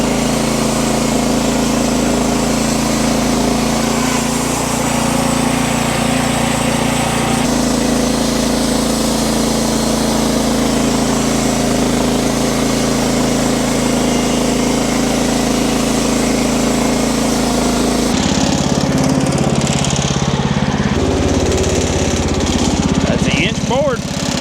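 A Wood-Mizer LX50 sawmill runs loud and close with a steady engine drone while cutting a log, its pitch shifting as the cut progresses.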